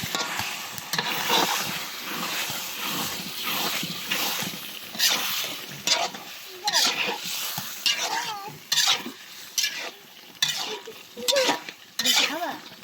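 Curry being stirred in a pan, with scraping strokes and a steady sizzle in an irregular rhythm; close and fairly loud, with a few faint voices now and then.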